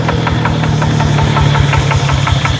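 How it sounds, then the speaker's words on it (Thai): A car engine is revved up close and loud, with a heavy, rapid rhythmic throb and knocking pulse that stays fairly even through the short burst. "เดี๋ยวมาเบิ้งรถให้"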